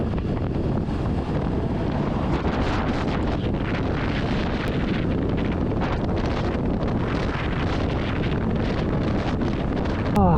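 Strong wind buffets a rider on a Honda Supercub during a long road trip in South Australia, a loud continuous roaring rush of air over the microphone throughout.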